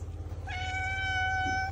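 A pet cat meows at breakfast time indoors, letting out one clear, sustained meow at low level over a faint background hum, with no talk.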